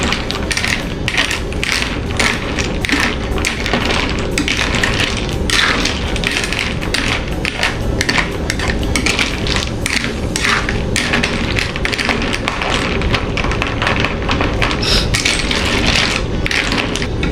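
Repeated scraping and clinking of a utensil stirring coconut milk in a metal pot, a busy irregular rhythm that continues without pause, close up.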